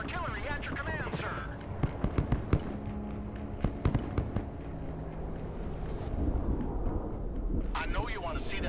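Artillery fire in Broken Arrow, a modern warfare strategy game, a run of sharp booming shots and cracking impacts over a steady battle rumble, loud and fairly close. A voice speaks at the start and end.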